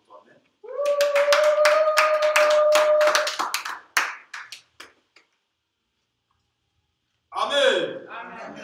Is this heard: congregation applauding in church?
yes